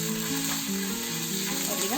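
Chili flakes and ginger garlic paste sizzle in hot oil in a pan for a Panda Express–style orange chicken, a steady, hissing fry heard close, with faint background tones.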